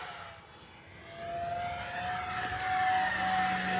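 An FMS P-51 Mustang Miss America RC model plane, 1.1 m wingspan, flies past with a steady high-pitched motor whine that swells louder as it nears, alone with no talk.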